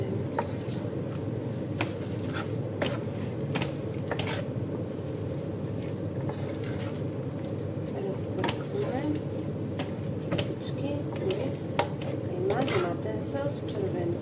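Zucchini moussaka mixture seasoned with salt is stirred in a bowl, giving soft wet squishes and scattered utensil taps beneath a constant loud background hiss.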